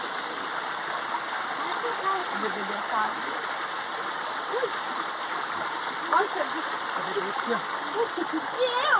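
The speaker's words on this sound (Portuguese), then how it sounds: "Água tem por todo lado, água maravilhosa que o nosso Deus, ele deu para nós de graça" Natural stream flowing outdoors, a steady, fairly loud rush of water that continues throughout, with a person talking over it.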